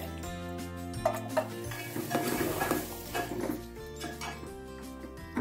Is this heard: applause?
no